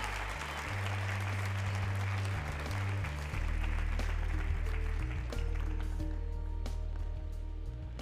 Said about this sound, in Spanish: Vamos a darle, por favor, un gran aplauso.